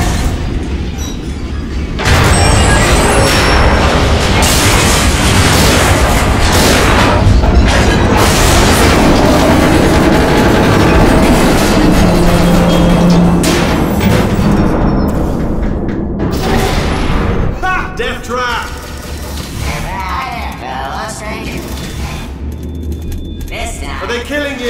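Turrets firing and heavy booms in the video game Portal 2, a dense, loud barrage of bursts and impacts that runs almost continuously, thinning out toward the end.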